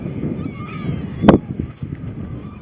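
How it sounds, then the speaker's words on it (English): A flock of geese honking outdoors in a muddy field, calls overlapping with one loud honk standing out briefly amid a continuous chattering background. "That's a lot of freaking birds."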